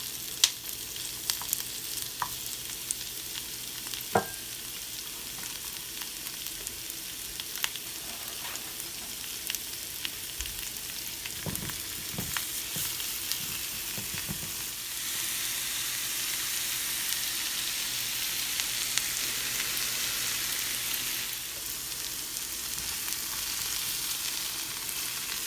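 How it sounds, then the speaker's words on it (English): Salmon and vegetables frying in a pan, a steady close sizzle with occasional scrapes and taps as food is moved, the hiss swelling louder in the second half, no voices. "I'm going to scoot over and make a little room here on the pan for my salmon."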